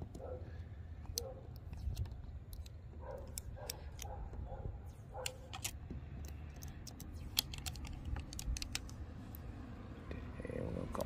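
Backing being peeled off a vinyl window decal for a Chrysler 300, a run of faint crackling ticks and soft tearing snaps across roughly eleven seconds, with someone talking quietly through parts of it.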